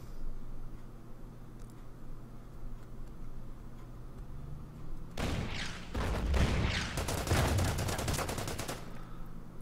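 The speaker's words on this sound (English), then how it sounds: "It's got some artillery doing some damage." Artillery fire in the World War II Pacific strategy game Order of Battle: Pacific, a burst of rapid, dense blasts in the middle over steady background ambience, loud and close, then fading.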